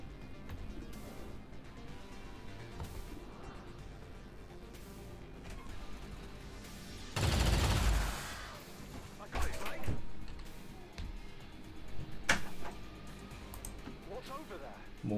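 An incendiary grenade fired in XCOM 2, heard as a loud, dense blast that swells and fades over about a second, set among game noises and occasional smaller thuds and clicks.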